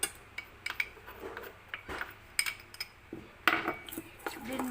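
Spoon mixing chocolate chip cookie batter in a bowl: irregular clinks and scrapes of metal against the bowl, close and fairly quiet, in uneven bursts with short pauses between strokes.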